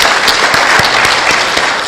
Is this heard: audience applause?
yes